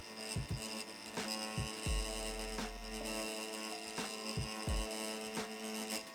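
A tattoo machine shading a smooth blend gives off a steady low buzzing hum with rhythmic throbbing pulses, continuous and fairly close, with no talk over it.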